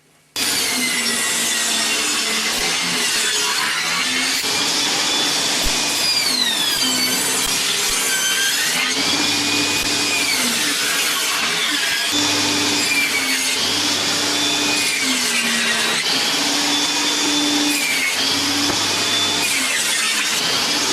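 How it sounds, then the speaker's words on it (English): A table saw rough-cuts a wood panel for a traditional raised-panel cabinet door, a loud continuous whine that dips and rises in pitch as each cut loads the blade, with no voices. "to start with I'm just going to rough cut it on the table saw"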